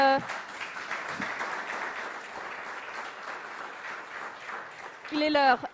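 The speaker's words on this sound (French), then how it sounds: "On peut les applaudir." An audience at a bathroom-industry conference applauds the invited guests, steady close clapping filling the room for several seconds before a jingle-like tone cuts in at the end.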